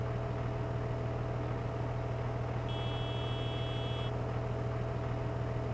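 A Steiger tractor engine idles in Farming Simulator 22, heard from the cab as a steady low hum, with a brief electronic beep tone partway through.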